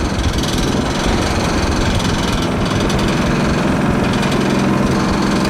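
A small gasoline engine fires up without choke and runs steadily, a loud continuous rattling drone close by with no talking.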